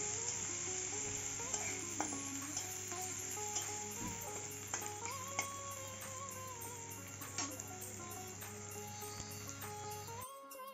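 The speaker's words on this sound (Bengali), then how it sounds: "পেঁয়াজ কুচিটা দিয়ে ভালো করে নাড়িয়ে চাড়িয়ে ভেজে নেব।" Chopped onion sizzling steadily in a hot pan while being stirred for matar ghugni, a soft continuous fry with occasional scrapes and clinks of the spoon, fairly quiet and with no talk.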